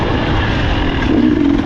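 A dirt bike engine on a forest single-track trail at Long Lake near Cadillac, Michigan, pulling away from the trailhead. It gives a steady, loud, close motor drone with a slight rise in pitch near the end.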